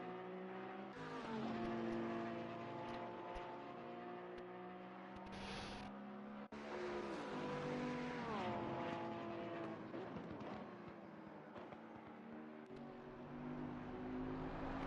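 Porsche race car lapping Monza in a PS4 racing game, its engine droning steadily and loudly with rising and falling revs through gear changes, continuous and close throughout.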